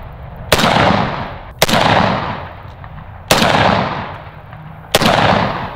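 Four loud, close gunshots from guns bought at a pawn shop, fired one at a time about a second and a half apart, each sharp crack trailing off in a long rumbling echo, with no talking.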